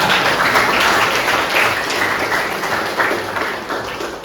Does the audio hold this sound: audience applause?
yes